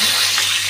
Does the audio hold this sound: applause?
no